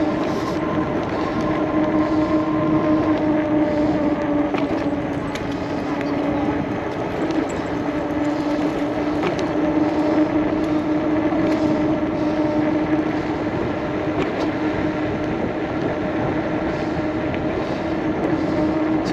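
Engwe X26 electric bike rolling at about 20 mph on throttle alone, with no pedaling: a steady motor hum and tyre and wind noise run continuously and evenly throughout, fairly loud and close.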